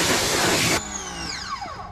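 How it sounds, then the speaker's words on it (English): Water sprays hard against a car tire during a wheel rinse, a loud, close hiss that cuts off abruptly partway through and leaves a quieter tail of fading, whistling residual sound. "we're gonna rinse our tire."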